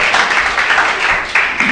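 A church congregation gives a short, loud round of applause for Christ, an unbroken wash of clapping.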